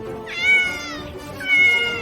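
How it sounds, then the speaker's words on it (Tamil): A pet house cat meows twice in quick succession, close and clear, each call a rising then falling cry with a short pause between, with no talking over it. "அது வந்து பூனை சார். நான் பூனை வளர்க்குறேன்."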